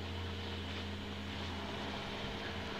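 Onex light aircraft engine with a turbo running at full power before takeoff, a loud steady droning hum with strong low tonal harmonics, constant and close, no speech.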